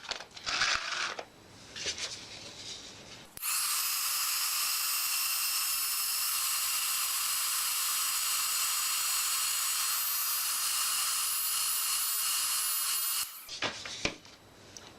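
Heat gun setting clear embossing powder in a craft session, a loud steady hiss and blowing roar held for about ten seconds, with brief handling noises before and after.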